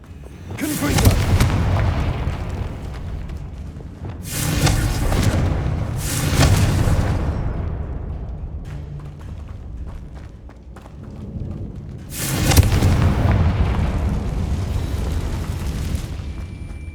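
Confringo fire spells explode in Hogwarts Legacy, four loud booming blasts with broad crackling bursts rising over a constant rumbling game background.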